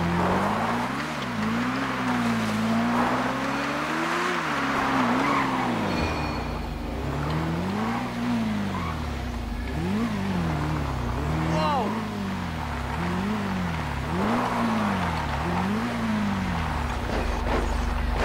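A car engine revving and racing in the video game GTA 5, repeatedly rising and falling in pitch through gear shifts with occasional tire squeal, while a voice talks over it throughout.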